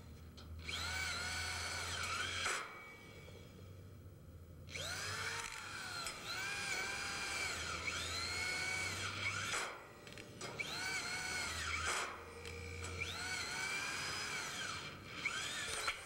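A power drill drives screws into steel frame studs in three long whining bursts separated by short pauses, close and fairly loud, with no talk.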